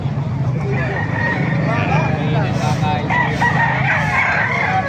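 Several roosters crow over one another against a busy outdoor background at a rooster market in Calumpit, Bulacan, with people talking nearby under the calls.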